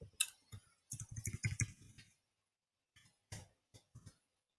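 Computer mouse clicks while saving an account edit in accounting software: a burst of quick sharp clicks, a pause, then a few more scattered clicks, close and crisp with no talk.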